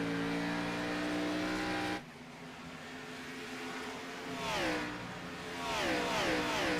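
Race cars in a racing video game at Rockingham roar past, a steady engine drone giving way to rising and falling revs as cars sweep by close, loud and continuous throughout.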